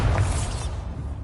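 The Bombarda blasting spell goes off in Hogwarts Legacy, a single loud booming burst with a whooshing, shattering edge that hits at once and then decays quickly.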